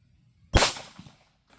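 A single .380 ACP pistol shot of Hornady Black 90 grain XTP ammunition fired into ballistic gel from 7 yards, one sharp crack after a quiet moment, decaying quickly.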